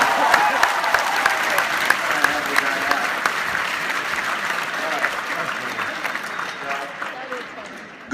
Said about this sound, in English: Big round of applause for our